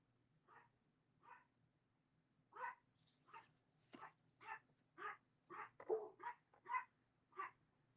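Dogs barking at home, a string of sharp separate barks that grow more frequent, then a few yips, fairly faint and heard alone without speech.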